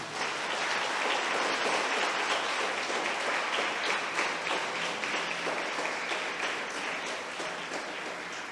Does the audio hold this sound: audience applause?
yes